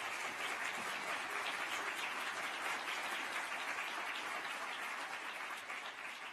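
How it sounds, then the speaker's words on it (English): Sustained applause from a large audience at the 2016 Our Ocean Conference, dense clapping that holds steady for about six seconds before easing slightly. "Let's give him a round of applause for that."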